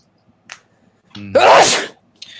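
A single sharp sneeze, loud and close, with a brief sharp intake of breath before it and no talking.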